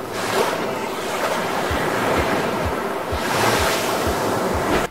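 AI-generated ocean waves roll in, a continuous wash of surf with rhythmic low thumps of breaking water and wind-like noise, loud and unbroken with no speech.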